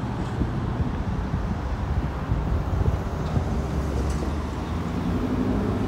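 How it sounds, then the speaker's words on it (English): Strong wind buffets outdoors beside a railroad crossing, a low, gusty rumble battering the microphone steadily throughout, with faint traffic noise beneath. "Man, it's windy out."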